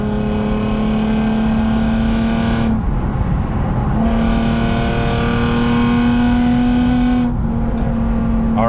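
A Lexus IS 250 with a ported intake manifold drones loudly at a steady pitch under light throttle, with its note briefly dropping twice as the throttle eases before climbing back, heard close up without talk.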